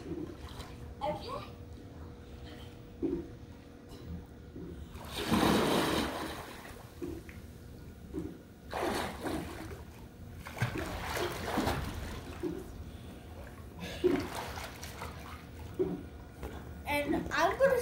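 At an outdoor swimming pool, a jump off the wall into the water sends up a loud splash, then further splashes and trickling water follow, with a voice talking in between.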